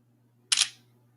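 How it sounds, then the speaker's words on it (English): OnePlus Nord N200 5G phone camera shutter sound, a single quick crisp click with a short tail, heard alone over a faint low hum. "very fast shutter time"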